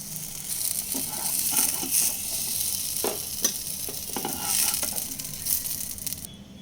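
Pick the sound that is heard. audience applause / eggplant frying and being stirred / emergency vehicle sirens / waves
eggplant frying and being stirred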